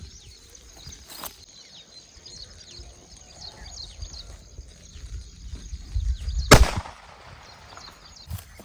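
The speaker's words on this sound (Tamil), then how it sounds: "ஆறு இன்ச்சு லட்சுமியில் ரெண்டாவது வெடி" A six-inch Lakshmi firecracker, a country-made cracker at a fireworks test, goes off once in a sharp, loud blast with a brief crackling tail, standing out against a quiet outdoor background that has a faint earlier pop.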